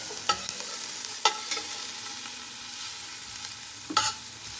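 Onions cooking in a pan for a Swiss chard side with carrots and celery, a soft, steady sizzle with a few sharp spoon or pan knocks, close and without talk.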